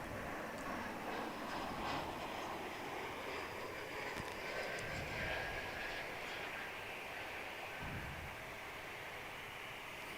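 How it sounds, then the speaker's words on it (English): Embraer E175 regional jet arriving at DFW Airport, a steady broadband engine roar that holds fairly constant throughout, fading slightly near the end, with faint voices in the background. "Here comes the Lubbock E175."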